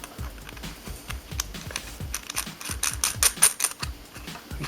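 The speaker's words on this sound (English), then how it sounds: "You put it positive side in first, and then you just screw the cap back on." Battery cap being screwed back onto a VaporFi VOX II vape: quick, close ratcheting clicks and small scraping ticks in uneven bursts, growing slightly louder toward the end, with no talking.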